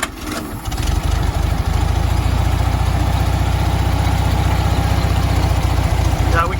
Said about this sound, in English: we got it down to idling pretty nice